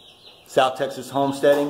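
Baby meat chicks in a large brooder give faint, high chirps in the background while someone speaks close up in the foreground.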